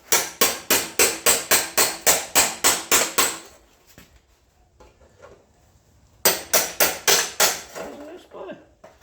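A hammer taps a chisel to separate a car door skin panel, giving rapid, sharp metallic strikes in a rhythmic burst. A quiet pause follows, then another run of taps.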